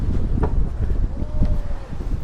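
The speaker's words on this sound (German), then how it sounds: "Es ist schon etwas windig." Gusty wind at a beach in Marmaris buffeting the microphone with low rumbling bursts, a faint voice and light background sounds underneath.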